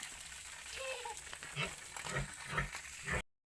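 Farm pigs grunt faintly while being showered with water in a countryside pen, the short snorts scattered under a steady hiss of spraying water.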